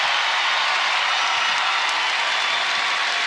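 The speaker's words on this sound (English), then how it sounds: "They're going to let Ashley get her own ovation all by herself." A basketball crowd at Hilton Coliseum holds a broad, steady ovation during an NCAA women's second-round game between Georgia and Iowa State, a dense and continuous wash of applause and cheering with no breaks.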